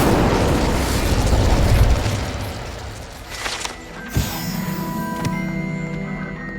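Incendio fire spell cast in Hogwarts Legacy, a whooshing, roaring blast that trails off, followed by a sharper burst near the middle and a lingering magical shimmer.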